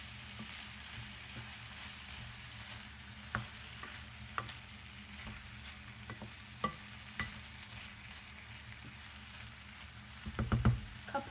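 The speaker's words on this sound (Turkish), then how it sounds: "Çok fazla öldürmeden biraz daha hepsini birden kavuracağım." Mushrooms, vegetables and garlic sauté in a pan with a soft, constant sizzle. Scattered utensil clicks and stirring knocks punctuate it, ending in a louder cluster of clatter.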